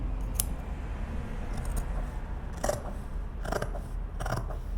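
Close-up sharp scissor cuts through fabric kept flat on a table, four or five crisp metallic snips spaced about a second apart, with no voices.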